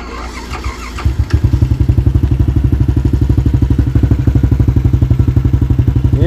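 A Yamaha LC135 motorcycle with a V8 fuel-injected upgrade starts up and idles with its exhaust, a close, loud, steady rapid thumping pulse following a brief clattering start, with faint carburetor slide noise.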